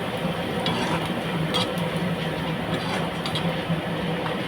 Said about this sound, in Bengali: চিরা ভাজা করা হচ্ছে বন্ধুরা